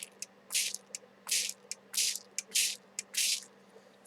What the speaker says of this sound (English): Spray it as many times as you like.